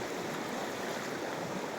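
Knee-deep water of a mountain river in the countryside rushes steadily, a continuous close, even wash of flowing current with no voices.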